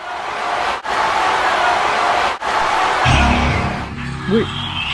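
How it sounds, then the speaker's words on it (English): Dense, loud roar of a large wrestling show arena crowd cheering continuously, with a voice briefly cutting in near the end. "Listen to this crowd."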